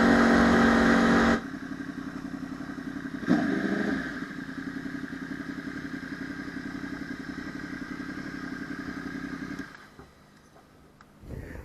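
A 2014 Yamaha YZF-R1 1000cc supersport motorcycle on the road: a loud, steady engine drone with a harsh buzzing tone, briefly rising at one point, then dropping to a quieter rumble near the end.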